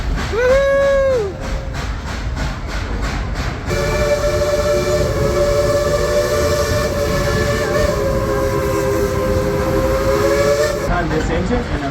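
Dollywood steam train engine running: a loud chuffing, hissing rumble, with a short whistle blast at the start, then a long, sustained multi-tone steam whistle that sounds close and dominant before trailing off.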